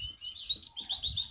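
A pintagol, a goldfinch and canary cross, sings a quick, bright warbling phrase of high chirps and trills, clear and close, mixing goldfinch and Belgian canary songs.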